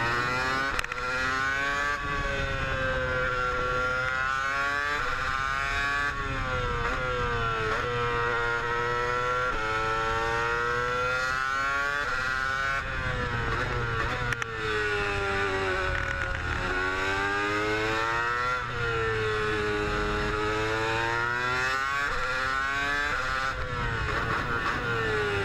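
A race car engine runs an installation lap at Jerez: a steady, loud, close drone whose pitch keeps rising and falling through gear changes and corners, with no pauses.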